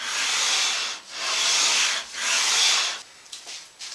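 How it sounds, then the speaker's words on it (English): Radius block rubbed lightly along a guitar fretboard in three long, even back-and-forth sanding strokes with a smooth hiss, then a few softer short scrapes, close and alone. "before I fine sand the board, just hitting it real light with the radius."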